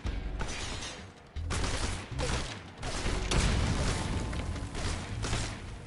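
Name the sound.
enemies firing guns in a video game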